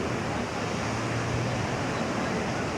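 Sea waves washing onto the Jeddah Corniche shore before dawn, a steady close roar of surf mixed with wind rumble, continuous and unbroken.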